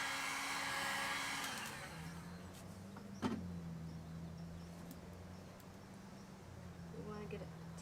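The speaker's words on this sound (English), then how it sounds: "I'm going to put my heat gun on it just a minute" A heat gun blows a steady, loud whooshing airflow over resin epoxy on a mixed-media beach wave panel, beginning with a harsh surge and settling to a continuous hum, with a brief clunk midway.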